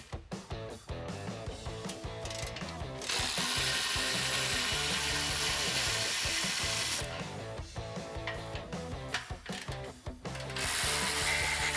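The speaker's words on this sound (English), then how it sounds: "I'm going to use a 13mm socket on my ratchet and remove the bolts" A ratchet with a 13mm socket loosens exhaust flange bolts on a 2011-2014 Ford F-150 5.0L, giving rapid continuous clicking with brief pauses, loud and close, with no voices.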